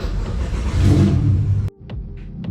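A track-day vehicle's engine fires up and revs loudly and close, rumbling for over a second before cutting off abruptly, followed by a few faint clicks.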